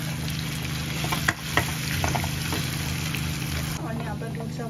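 Grated carrot frying for carrot halwa, a dense continuous sizzle with a low steady hum beneath and a few sharp clatters of stirring, while someone talks over it.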